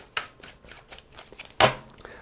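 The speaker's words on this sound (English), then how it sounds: "Give me 2 shuffles." A tarot card deck being shuffled by hand, a run of quick papery riffles ending in one louder, sharper riffle, close by with little else around.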